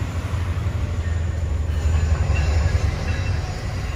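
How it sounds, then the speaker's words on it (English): An EXO commuter train in Montreal rolls past close by, a heavy low rumble of wheels on rails with faint squeals and clacks, loud and continuous. "Deadheading to Lucien Allier, another EXO train."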